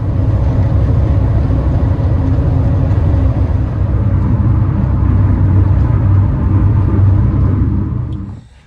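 Road traffic heard from inside a vehicle stuck in traffic on a long drive from Florida to California: a loud, constant low rumble of tires and engine fills the cabin, then fades out at the end.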